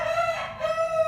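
Rooster crowing, one short, loud, close call with a sustained tonal cry and a brief break in the middle.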